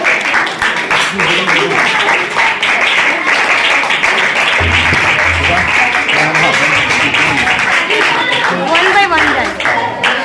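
An audience claps and applauds at a church gathering, a loud dense wash of clapping that runs throughout, with voices and cheering mixed in.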